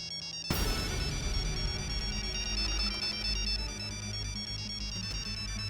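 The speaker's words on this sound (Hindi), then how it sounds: "एक मिनट, उनका फोन है।" An electronic phone ringtone starts abruptly and plays a bright repeating melody, loud and close, with no talking.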